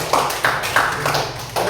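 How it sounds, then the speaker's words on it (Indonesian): A school class claps hands together in a few loud, close bursts of rhythmic clapping with short pauses between them, no voices. "Tepuk tangan yang super buat kalian semua."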